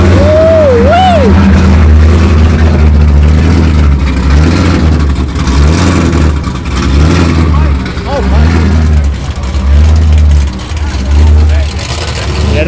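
A Camaro and a Corvette idle and rev before a drag race, a loud continuous engine rumble with swelling revs, while people talk and shout nearby.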